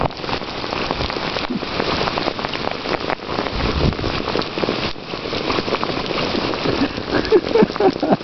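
Steady rain falls outdoors while a puppy plays in it, making a constant close hiss and patter of drops on the ground that stays dense the whole way through.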